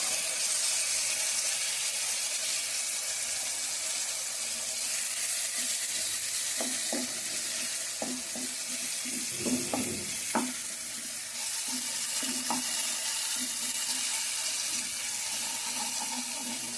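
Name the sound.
chicken frying in a pan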